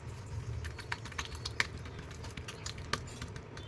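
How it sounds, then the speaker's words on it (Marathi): Bottle gourd thalipeeth dough, moistened with water, is patted flat by hand, giving a few soft, irregular slaps and taps over a low steady hum. "छान गोळा थापला जाते"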